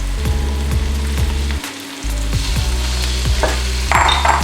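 Chicken stir-frying with basil in a hot pan, a steady loud sizzle with rhythmic scraping stirs about every half second, a brief pause in the middle, then sizzling resumes.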